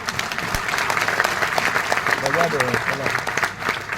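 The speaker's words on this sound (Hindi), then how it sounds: "आप ताली बजाइए, पहले मैं बताता हूँ, ये खुशी की बात है।" Audience applause at a talk by a speaker, a steady wash of clapping from a crowd that carries on for the full stretch with a faint voice underneath.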